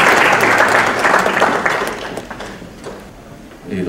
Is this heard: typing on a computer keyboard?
no